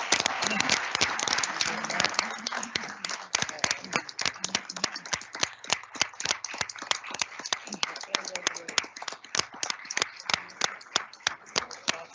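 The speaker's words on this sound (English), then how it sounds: "Give him a round of applause." At a school board meeting, an audience gives a sustained round of applause for a high school football team and its coach, with dense, steady clapping throughout that carries on at an even level.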